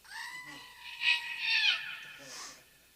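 A goat lets out a loud, wavering, scream-like bleat that slides downward and then rises again over about two seconds, fairly close. A fainter cry trails off at the end.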